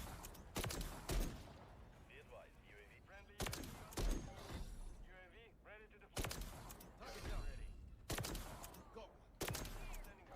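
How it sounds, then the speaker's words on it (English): Sniper rifle shots from the Call of Duty MW3 beta, a video game: several sharp, loud blasts spaced a second or two apart, with game effects and a speaking voice in between. "We have the most broken snipers in a beta that I have seen in a very, very long time."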